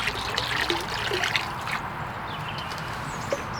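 Malt distilled vinegar trickles and drips as it is poured into an indoor growing system, a soft close liquid patter with no voices.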